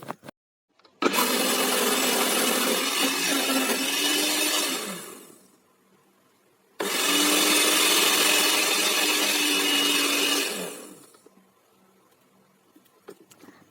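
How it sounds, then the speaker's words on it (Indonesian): Two long bursts of a blender whirring at full speed while pureeing dates with milk, each running several seconds before cutting off, separated by a short pause with faint handling clatter afterward. "kurmanya di blender, dihaluskan"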